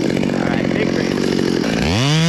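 A chainsaw cuts through a big tree branch with a loud, buzzing rattle close by, then its engine pitch climbs sharply as the chain frees up near the end.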